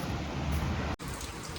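Steady heavy rain hisses continuously in a village near Junagadh, a dense wash of falling drops with a momentary dropout partway through before the downpour resumes.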